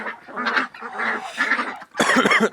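Two small, late-hatched ducklings quacking in bursts close by, a run of short calls with brief pauses and a louder, busier flurry near the end.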